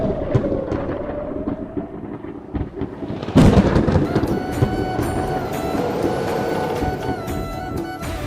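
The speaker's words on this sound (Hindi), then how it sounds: "एक रात बिजली चली गई और आसमान में बादल गरजने" A thunder sound effect: a low, rolling rumble builds, then a sudden loud crack breaks into a sustained, crackling roar that keeps rumbling to the end.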